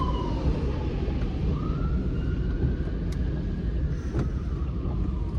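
A distant ambulance siren wails faintly over steady traffic rumble on a rainy Sunday afternoon, its tone slowly sweeping up and down.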